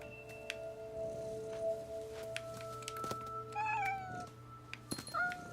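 A cat meows twice in the video game What Remains of Edith Finch, with rising, wavering cries heard close and clear over a steady tonal game soundscape and faint ambient hum.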